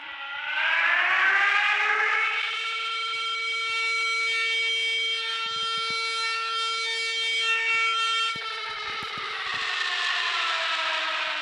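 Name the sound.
AC alerter siren being tested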